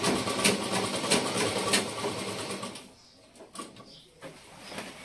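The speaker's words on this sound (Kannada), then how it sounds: "ಈ ಕಲರ್ ಹಾಕಿರೋದ್ರಿಂದ ಬ್ಲೌಸ್ ಕಡೆಗೆ ಸ್ಟಿಚ್ ಮಾಡ್ತಾ ಇದ್ದೀನಿ" A sewing machine stitches a saree blouse, with a loud, continuous whirring run that stops partway through and is followed by quieter intermittent clicks and handling sounds.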